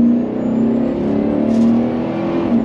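Mercedes engine in a driving video game holds a steady, loud drone throughout, revving at sustained high pitch with a slight swell midway, no talking over it.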